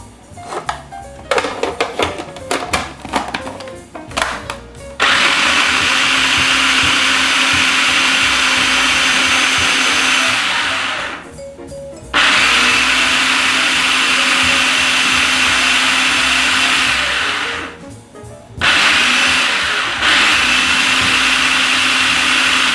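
A blender whips a purple sweet potato topping thinned with almond milk, starting with a few short pulses and then running loud and steady in long bursts, stopping briefly twice before starting up again.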